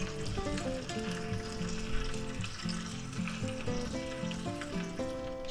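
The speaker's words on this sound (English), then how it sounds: "Now we're going to put our bread in and lightly toast them." Bread toasts in a pan on a burner set to medium low, giving a steady, moderate sizzle that carries evenly throughout, with faint background tones layered underneath.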